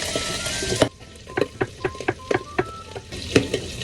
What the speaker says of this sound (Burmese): ဝက်သားလေးကိုလုံးဝစစ်တဲ့အထိကြော်မယ်